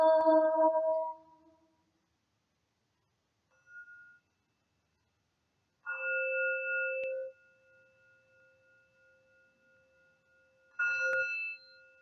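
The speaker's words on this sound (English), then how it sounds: "Let the sound of the bell" A bowl-like bell is struck several times in quiet surroundings, each strike ringing out as a clear sustained tone that fades slowly, with long silent gaps between strikes.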